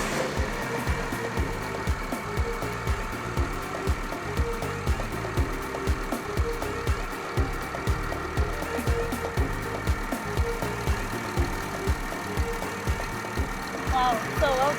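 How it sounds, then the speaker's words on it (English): An inline-six diesel engine runs at a steady idle, its rhythmic knocking clatter continuous and fairly close for the whole stretch, with low rumble underneath. "You can go ahead and start the engine to see if it's really working."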